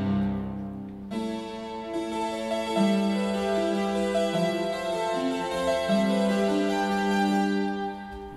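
Korg Microstation synthesizer playing its Sepia Waves preset, a sustained, layered pad of held notes that swells in after a brief quiet start and keeps changing chords steadily to the end, with no talking.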